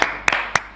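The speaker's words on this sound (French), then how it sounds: "Moi, j'applaudis." Three sharp, separate hand claps ring out close up in a small, quiet room, spaced about a quarter second apart with no speech.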